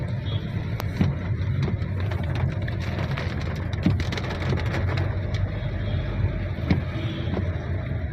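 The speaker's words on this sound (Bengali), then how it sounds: "গাড়িতে ভিতরে বসার পরে বৃষ্টিটা আলহামদুলিল্লাহ আরো বাড়ছে, খুবই সুন্দর একটি বৃষ্টি হচ্ছে।" Heavy rain drums on a parked car heard from inside, a dense, steady patter with low rumbling wash and occasional sharper drops, continuous throughout with no talk.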